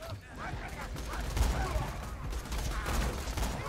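Continuous gunfire in Borderlands 2, a dense rattle of shots and mechanical clatter running throughout at moderate volume, with game sounds layered on top.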